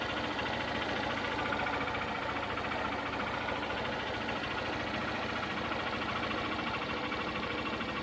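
Motorbike engine running while riding along a road, a continuous close drone with rough vibration and constant rush, unbroken for the whole stretch.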